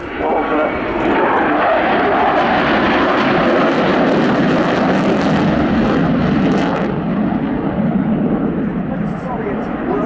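A Sukhoi Su-27 Flanker jet performs an air display, its engine roar loud and continuous as it passes, with a spoken commentary running over the noise throughout.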